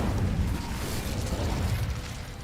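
An Incendio fire spell cast in the game Hogwarts Legacy, heard as a loud, sustained roaring whoosh of flame with a dense rumbling low end, steady for the whole stretch.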